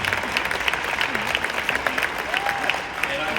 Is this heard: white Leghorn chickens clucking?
no